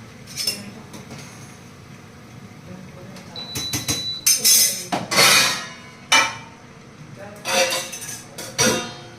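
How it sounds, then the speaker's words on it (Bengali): Cooked rice being tipped and drained from a pot in a home kitchen, with clinks and scrapes of metal cookware, splashes and clatter in bursts, while a person talks over much of it. "ভাত হয়ে গেছে ভাতটা উপুর করে দিই"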